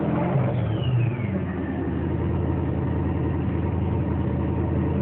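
A Formula Drift Nissan 350Z with a swapped LS3 V8 rumbles and revs up close, the deep engine note rising and falling for several seconds with no voices.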